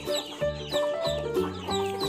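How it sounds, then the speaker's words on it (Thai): Chickens cluck repeatedly and close by as a child feeds them, the calls overlapping in an uneven, busy rhythm. "ออโต้ให้อาหารไก่กับพี่แตงนะครับนี่"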